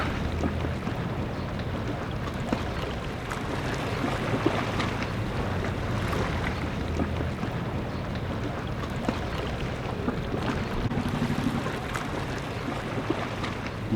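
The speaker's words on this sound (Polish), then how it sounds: "dźwięk fal uderzający o brzeg to jest jednak takie ASMR." Steady wash of surf and breaking waves along a Sicilian shore, continuous and fairly loud, with wind noise and no voices.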